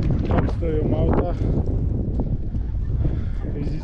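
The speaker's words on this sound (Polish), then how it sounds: "Widzicie? Wiatr duje." Strong wind buffets the microphone outdoors on the Croatian island of Pag in spring, a steady low roar and rumble running loud and close through the whole stretch, with a voice briefly audible near the start.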